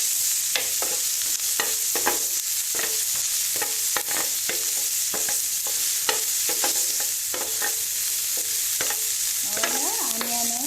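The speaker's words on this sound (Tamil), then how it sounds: "கேப்சிகம் இதெல்லாம் போட்டு ஓரளவு நல்லா ஃப்ரை பண்ணிக்குவோம்" Capsicum and other vegetables stir-fried in a pan hiss steadily and nearby, with repeated rhythmic taps and scrapes of a spatula throughout and no speech.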